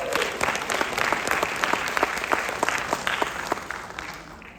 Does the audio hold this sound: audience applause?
yes